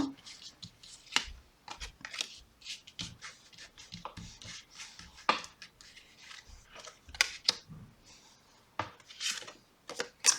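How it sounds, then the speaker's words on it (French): Tarot cards are shuffled and drawn in a quiet room, giving soft, close riffles, slides and light card slaps in scattered short bursts with brief pauses between. "je vais tirer quelques autres cartes."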